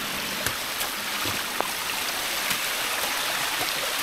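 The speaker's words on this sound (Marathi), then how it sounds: "ह्या आहेत त्या कोरीगढ़च्या पायऱ्या, तिथून पाणी पडत आहे" Monsoon water runs down the stone steps of Korigad fort, a continuous soft rushing hiss with a few faint drips and taps, steady and moderately distant.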